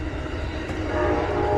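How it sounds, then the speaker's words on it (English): Loud, steady rumble of a passing train close to a home, with a droning horn-like tone rising slightly toward the end; no talking. "All right, it's loud. We do live by trains"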